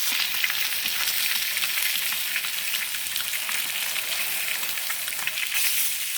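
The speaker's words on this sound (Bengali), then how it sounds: "দেখছেন মাছগুলো কিন্তু ভালোভাবে ভাজা হয়ে গেছে।" Pieces of grass carp fry in a pan of hot oil, a close, even hiss and sputter that continues unbroken throughout without any talking.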